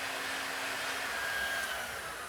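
A heat gun blows hot air onto a prosthetic check socket, a steady, even whooshing hum with a faint whine, close by and alone.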